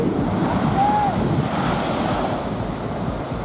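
Ocean surf rolls onto the coast at Mirissa, Sri Lanka, a loud, continuous wash. Heavy wind buffets the microphone throughout.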